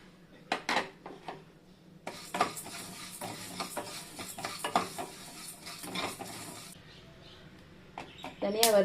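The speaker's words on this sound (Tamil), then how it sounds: "இப்போ தனியா போட்டு வறுத்துக்கலாம்." Coriander seeds dry roasting in a pan for homemade sambar powder, with a dry rattling, scraping stir and sharp clinks of a spoon against the pan, steady through the middle and louder near the end, under occasional talk.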